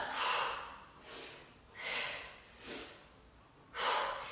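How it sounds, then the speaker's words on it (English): Forceful breaths pushed out during push-ups in a home bootcamp workout, five loud close huffs in a steady rhythm with short quiet gaps between them. "And I'm really breathing out."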